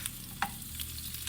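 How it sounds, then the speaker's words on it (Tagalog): Carrots and potatoes frying in a pan for fish curry, giving a steady low sizzle with a stirring scrape near the middle, close and continuous, with no voices. "Prito din po natin yung carrots at ang ating patatas."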